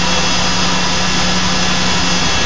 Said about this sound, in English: there you can see my door opening.